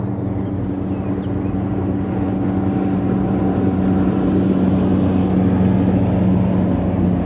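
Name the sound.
bass boat passing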